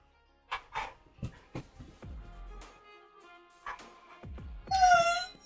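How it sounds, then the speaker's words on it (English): A small, excited puppy gives a string of short yips and whimpers, sharp bursts separated by brief pauses, ending in a higher, louder squealing whine, close by. "The small puppy is getting very excited."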